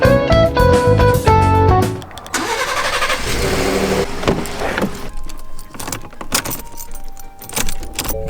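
A car being moved out of a driveway: keys jangle and music plays at first, then a passenger car's engine cranks and starts, settling into a medium idle with clicks and handling noises.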